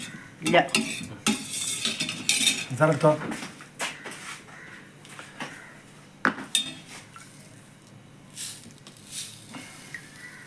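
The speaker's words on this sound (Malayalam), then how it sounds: "അപ്പോൾ വെള്ളം ഇവിടെ കലക്കി കൊണ്ട് നിൽക്കുകയാണ്" A spoon stirs sugar into water in a glass, clinking sharply against the sides in quick bursts, then slows to a few scattered chinks. The sound is close and fairly loud.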